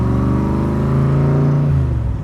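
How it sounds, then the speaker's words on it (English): A 1965 Shelby Cobra Backdraft engine revs loudly and steadily up close, its deep harmonic rumble holding a sustained tone before dropping off near the end. "Man, it is amazing how cool this car sounds and how nice it drives."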